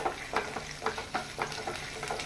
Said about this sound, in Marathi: हे मातशे 1 मिनिटभर टॉस करून घेवपाचे, फ्राय करून घेवपाचे